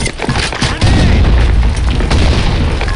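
A grenade blast in the shooter game BlackShot: a loud, deep boom rumbling with crackling debris, sustained and heavy for several seconds.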